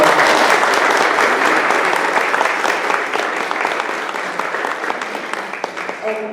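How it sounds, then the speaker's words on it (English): Applause from the audience at a community meeting, a dense, steady clapping from a roomful of people that slowly thins out toward the end. "Let's have a round of applause for"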